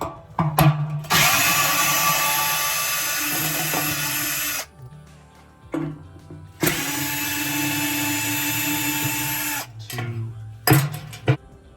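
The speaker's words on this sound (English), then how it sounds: "I'm going to just pull out these existing screws. Pull these screws out." A power drill backs screws out of a Frigidaire gas dryer drum in two long, loud whirring runs, each bracketed by short clicks and trigger blips, close and unaccompanied by speech.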